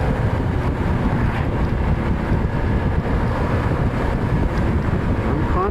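Steady, loud wind roar buffeting the microphone while riding a Honda Forza 125 scooter at night, a continuous rushing noise with engine and road rumble blended underneath.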